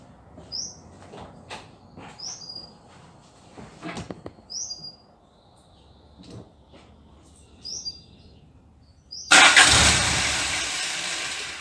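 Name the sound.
car engine starting, carburetor test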